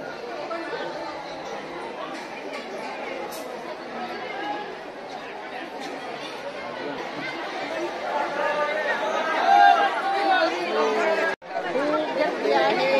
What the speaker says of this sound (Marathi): खूप गर्दी आहे मंदिरामध्ये.